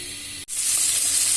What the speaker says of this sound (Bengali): আমার চিংড়ি মাছ প্রায় ভাজা হয়ে গেল